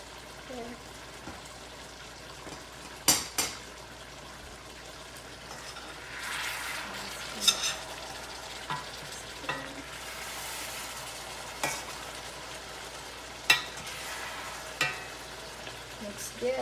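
Lechon paksiw roasted pork sizzles in a pan as it is stirred, a steady frying hiss broken by occasional scraping and clinking spoon strikes.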